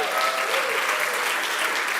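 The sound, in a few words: audience applause and cheering in church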